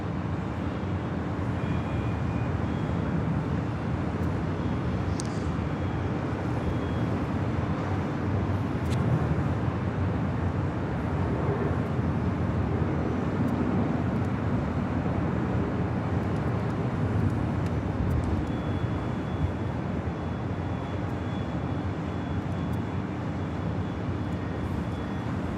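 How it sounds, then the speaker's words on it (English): A Delta Air Lines Boeing 737-800 arrives at Los Angeles International Airport, heard as a steady distant jet roar spread over the whole stretch against constant airport and traffic background noise. "Next arrival here on the north side, coming in from Miami, Florida. Delta Airlines flight 739."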